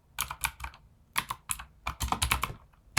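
Keys clatter on a computer keyboard in quick irregular bursts of typing, close and fairly quiet, with short pauses between runs of keystrokes.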